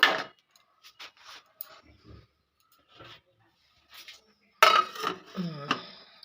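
A lid goes onto a pan of small chuno fish being cooked with capsicum: a few light clinks, then a close, loud metallic clatter that rings briefly.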